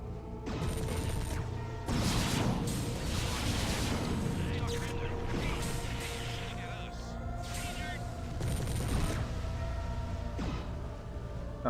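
Mech weapons firing in the MechWarrior 3 video game, heavy booming blasts and bursts of explosive gunfire repeating through the clip, while someone talks over the combat.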